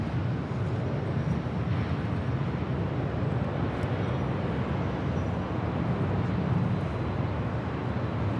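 Delta Airbus A330neo jet departing LAX, a loud sustained low roar of jet engines, steady and broad without letup, heard from nearby with no talking.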